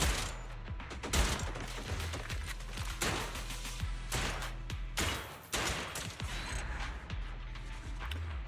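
Rapid bursts of gunfire from the video game Zenless Zone Zero, a dense run of sharp shots and clattering volleys spread across the whole stretch, loud and close with no talk.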